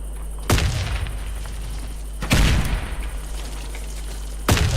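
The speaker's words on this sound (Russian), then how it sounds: "Видишь, как быстро он стреляет, да?" Three heavy bursts of rapid gunfire in the video game Warface, loud and booming, spaced about two seconds apart over a low steady background rumble.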